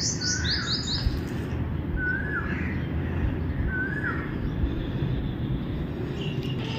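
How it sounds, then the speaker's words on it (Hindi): An Asian koel calls from beneath dark, heavy monsoon clouds. Three rising whistled notes repeat at spaced intervals, heard a little distant over a constant low background rumble. "कोयल दी आवाज़ आनी पई है"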